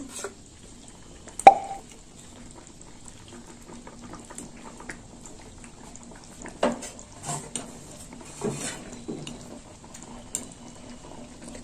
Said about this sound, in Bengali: এবার দিয়ে দেবো ভেজে রাখা মাছ। দিয়ে দিলাম মাছ। মাছটাও একটু ফুটবে ঝোলের মধ্যে।